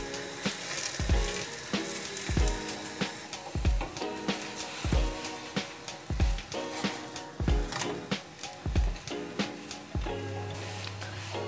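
Chana dal poli sizzles in ghee on a pan, a steady crackling fry punctuated by repeated soft rhythmic taps, with a low hum entering near the end.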